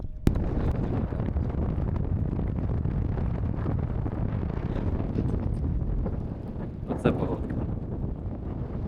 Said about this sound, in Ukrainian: Такий дуже холодний вітер.